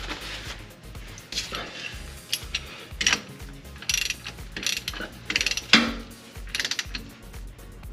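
A hand ratchet clicks as it tightens a bolt fitted with a crush washer on a flooded Honda S2000, giving a run of quick, close, uneven bursts of ratcheting clicks with short pauses between them.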